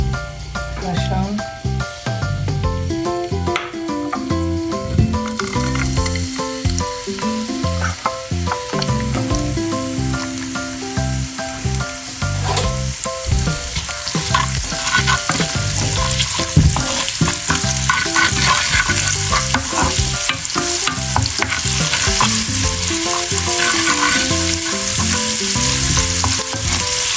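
Garlic sizzling and frying in oil in a pan for a Bengali red amaranth (lal shak) dish, with steady crackle and occasional stirring scrapes throughout, continuous and fairly loud, with faint music or voice in the background.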